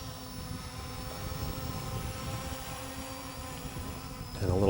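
An Ameta S20 Lite beginner drone hovers close by, its propellers giving a steady buzzing whir with a tonal hum that holds throughout and swells slightly louder at the end.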